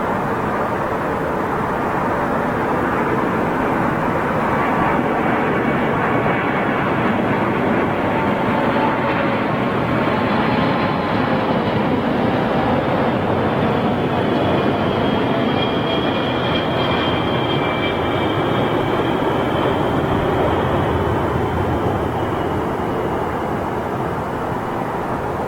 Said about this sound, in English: Here we go, Boeing 747.